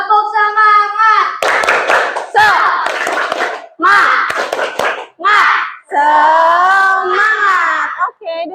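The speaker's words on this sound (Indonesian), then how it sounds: "1 kali lagi yang lebih keras. Tepuk semangat." Children in an Indonesian classroom do a rhythmic spirit clap, chanting loudly in unison between bursts of patterned hand claps, with a leader's voice prompting them.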